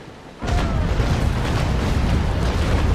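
A broadside of ship cannons in the Naval Action naval battle game erupts suddenly into a loud, sustained rumble of overlapping booms that fills the rest of the moment without letting up.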